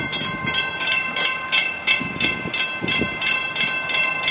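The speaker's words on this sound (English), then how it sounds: "FEC train number 202" An FEC freight train rolls past close by, its railcars giving a steady rhythmic clatter with repeated bursts of wheel noise at roughly half-second intervals, unbroken and with no voices.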